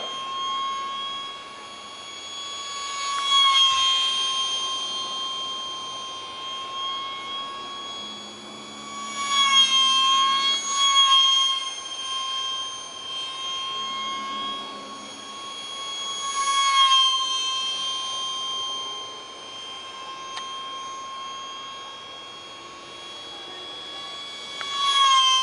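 A 30mm electric ducted fan on an ultra micro MiG-29 model jet with a 360-degree thrust vector nozzle whines steadily in a high, sustained tone, surging louder in several swells as it flies a loop, with no talk.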